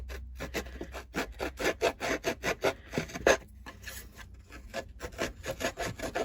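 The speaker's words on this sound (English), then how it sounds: "it's just rubbing against those fibers, breaking them down, giving that rough, distressed edge" A paper card edge being distressed by rubbing, giving a close series of rhythmic rasping scrapes, each stroke short and repeated steadily with brief pauses between, and no speech.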